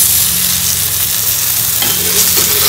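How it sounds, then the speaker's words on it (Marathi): Surmai fish slices frying in a pan, a steady close sizzle with faint stirring or turning noises and no talking. "थोडीशी हलकी फ्राय झाल्यानंतर तिला आपण पलटी करायची आहे."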